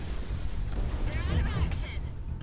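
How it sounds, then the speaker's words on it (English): Missile launch in the Project Wingman flight combat video game: a roaring, whooshing rumble under steady jet-engine drone, loud and sustained for a couple of seconds, with a person speaking over it. "Missile shot off."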